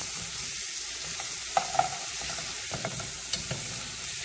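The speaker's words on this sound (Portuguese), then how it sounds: "dá uma mexida" Food fries in a pot as a spoon stirs it, giving a continuous sizzle with scattered scrapes and knocks of the utensil against the pot.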